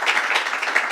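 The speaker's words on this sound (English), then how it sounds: "Annette Robinson, let's give her a round of applause." A brief burst of dense applause from an audience at a governor's public announcement, steady and fairly loud throughout its short span.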